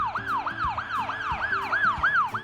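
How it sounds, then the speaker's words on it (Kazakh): An ambulance siren wails in a fast, regular rising-and-falling cycle, about eight sweeps repeating loud and clear over faint road noise, with no talking. "Жедел жәрдем."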